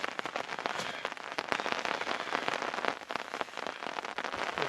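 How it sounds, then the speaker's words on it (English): Heavy rain falls steadily outdoors, a dense, constant hiss of drops pattering on surfaces close by, unbroken for the whole stretch with no voices. "I'm going to do this straight away because it really is raining."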